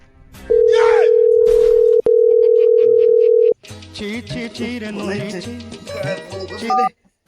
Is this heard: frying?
no